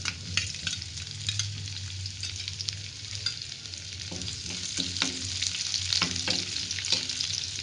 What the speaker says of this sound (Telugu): అల్లం వెల్లుల్లిపై చిన్న చిన్న ముక్కలుగా కట్ చేసుకుని వేయించుకోవాలి